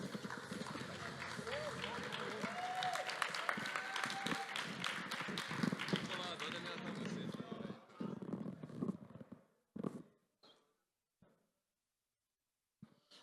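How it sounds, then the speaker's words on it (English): Audience applause at a startup panel event, dense clapping sustained for several seconds before thinning into a few scattered claps and falling silent. "Round of applause, please."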